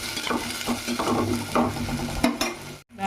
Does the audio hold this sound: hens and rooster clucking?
no